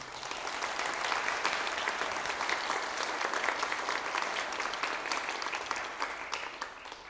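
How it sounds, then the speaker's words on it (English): A theater audience at a wind ensemble and concert band performance gives a round of applause for the crew member running board, lights and sound, a steady dense clapping that holds throughout and tapers slightly at the end. "if we could give him a round of applause"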